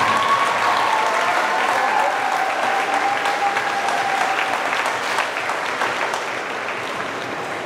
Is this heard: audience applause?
yes